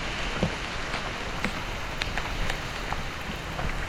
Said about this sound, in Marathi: पाऊस जोरदार आहे, हे बघा फुल पाऊस पडतो इथून, बेकार पाऊस आहे.